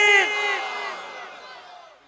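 A gathered crowd at a religious talk shouting the takbir chant together, one loud massed shout that swells and then trails off over about two seconds.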